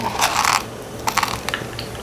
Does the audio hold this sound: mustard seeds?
yes